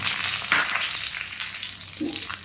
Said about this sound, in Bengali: মাছ ভাজার তেলে জিরে তেজপাতা ফোড়ন দিলাম